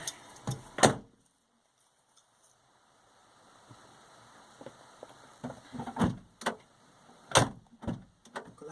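A beige 1989 Austin Metro City driver's door thuds shut, close and solid, among several sharp knocks and clunks as someone moves around the small car, with a quiet lull in between and no talking.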